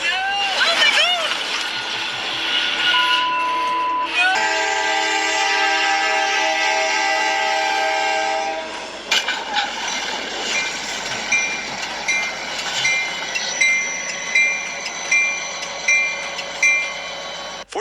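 A train near a collision site in Elgin, Texas sounds loud, long horn blasts up close, then rolls past with a rhythmic clickety-clack of wheels over the rails.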